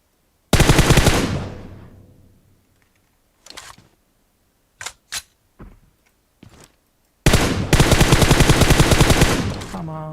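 Automatic weapon fire in the PUBG battle royale game: a long loud burst, a few scattered single shots and short bursts, then another sustained rapid volley, close and prominent with no talking.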